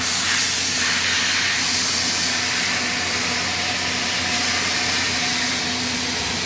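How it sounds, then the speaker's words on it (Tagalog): Steam hisses steadily and loudly from machinery at an ice plant, a broad continuous rush with a low mechanical hum beneath, unbroken for the whole stretch and with no talking. "Sana wala nang singaw yan."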